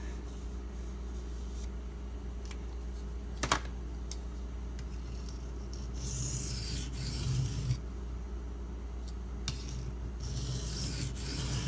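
A Benchmade Mini Grip knife with a D2 steel blade is stroked across a Shapton Pro sharpening stone, faint soft rasping passes repeating at an unhurried pace over a low steady background hum.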